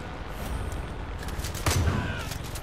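Gunfire from shooting enemies in the video game Far Cry 5, a dense rattle of shots under steady background noise, with one louder heavier blast near the end.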